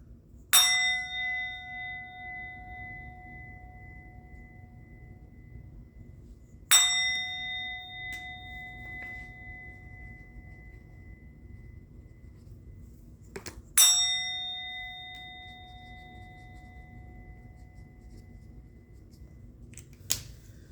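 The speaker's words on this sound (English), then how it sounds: "I'm going to ring the bell." A bell struck three times at even intervals of about seven seconds, each clear metallic ring sustaining and slowly fading into near silence before the next strike.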